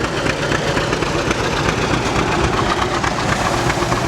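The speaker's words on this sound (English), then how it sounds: "Comes another tractor. Another John Deere." A John Deere tractor engine runs steadily at a steam engine show in Mason, Michigan, a loud, close, continuous low rumble with a rapid knocking pulse and no pauses.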